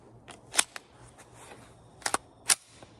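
Cartridges being pressed one by one into a Cobray PM11/NINE RPB magazine at a range, a few crisp metallic clicks at irregular intervals, close and fairly quiet with no talking.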